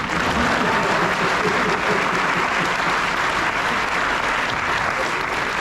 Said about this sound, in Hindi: अब एक बार चाहे तो मेरे लिए भी आप ताली करेंगे।